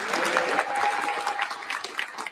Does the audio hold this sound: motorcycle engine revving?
no